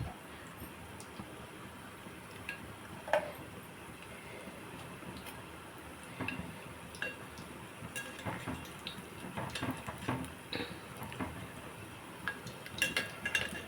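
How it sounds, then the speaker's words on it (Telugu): Mysore bajji batter frying in hot oil gives a steady soft crackle and sizzle throughout, with occasional light metallic clinks of a utensil against the pan, fairly quiet and without talk. "ఇప్పుడు కొంచెం ఐలో పెట్టాను అవి కొంచెం మెల్లిమెల్లిగా వేగి పైకి వస్తాయి"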